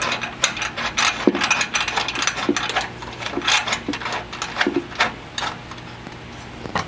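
Ratchet wrench clicking steadily as it tightens a bolt on a Crusader rock slider being installed on a Ford Bronco, a rapid run of close metallic pawl clicks with brief pauses, with no talk.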